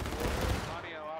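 Massed musket volley from an infantry company in the War of Rights Civil War game at Antietam's Miller's Cornfield, a dense crackling burst of overlapping shots that rolls and fades with voices mixed underneath.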